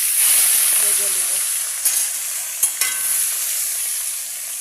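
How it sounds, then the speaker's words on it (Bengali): Fish frying in hot oil, a loud steady hiss and crackle close up that slowly eases, with a few sharp clicks of a utensil against the pan. "এই যে বন্ধুরা, এরকম করে আমি মাছগুলো ভেজে নেব।"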